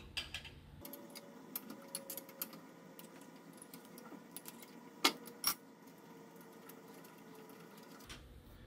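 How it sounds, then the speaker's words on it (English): Hex bolts are taken out of the jaws of a machining vise with small metallic ticks, clinks and rattles over a low steady background hum, including a couple of sharper clanks near the middle. No one speaks. "go ahead and remove the four hex bolts on your vise jaws"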